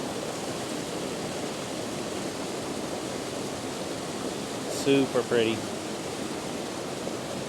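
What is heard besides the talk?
river flowing through giant culverts under a bridge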